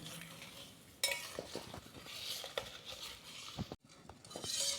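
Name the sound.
stirring jaggery in warm water with a spoon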